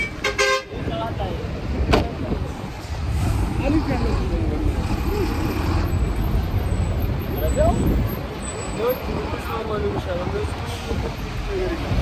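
Sino trucks and other vehicles rumble past on a busy road, with a short horn toot near the start and a continuous roar of traffic. Voices are audible in the background.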